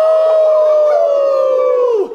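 A long, drawn-out howl from an audience imitating a wolf holds steady, then slides down in pitch and fades at the end.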